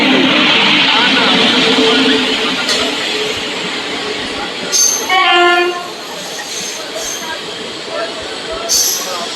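Jan Shatabdi Express running from Ghatshila to Howrah, a loud continuous rumble of wheels on rails with a horn blast in the middle and short squealing bursts near the start and end.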